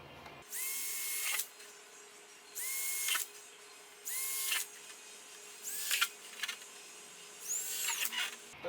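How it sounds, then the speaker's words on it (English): A power drill whirring through fiberglass Porsche 911 body parts in several separate bursts of about a second each, close and clear, with quiet gaps between. "Don't use too much pressure when you're drilling fiberglass."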